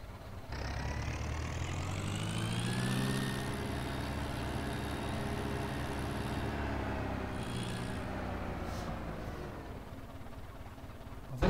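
A small seeding and fertilising tractor idles in Farming Simulator 17, giving a steady, moderately loud engine drone with a low rumble that holds evenly throughout with no talking over it.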